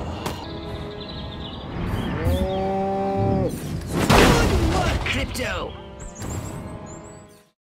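Radioactive zombie cows from Destroy All Humans give loud, close, wavering moos, broken by a crashing burst midway and sharp effects near the end, with no talk.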